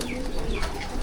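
Pigeons cooing inside a pigeon loft, a steady low murmur of coos with faint chirps layered over a continuous background hum, close and moderately loud with no talking.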